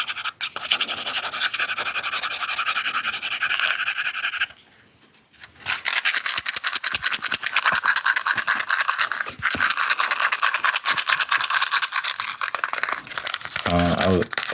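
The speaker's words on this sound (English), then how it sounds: "I'm trying to like scratch this matchbox" Close, aggressive scratching and crinkling at a matchbox striker strip, dense and rapid with a brief pause midway, while a person talks over it.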